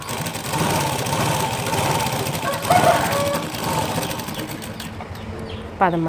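A sewing machine stitches a plain blouse, the motor whirring in a steady, continuous run at moderate loudness before easing off near the end.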